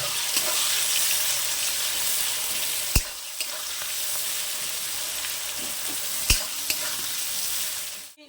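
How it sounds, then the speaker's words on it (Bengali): Onions frying in oil in a pan for a chicken and potato curry, a steady loud sizzle lasting throughout with a couple of sharp clicks from stirring, close up and with no voices. "পেঁয়াজগুলোকে আমি লাল লাল করে ভেজে নেব।"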